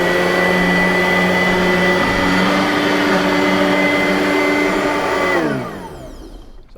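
Simplicity Riccar R10 vacuum cleaner running on high, a loud steady motor whine with a constant hum, then spinning down as it is switched off.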